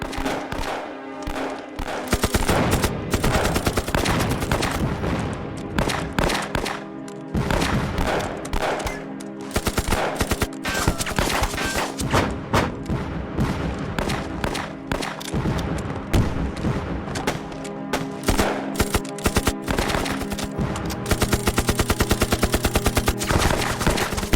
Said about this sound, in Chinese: 机枪组拿机枪压制，投弹组投弹，机枪投弹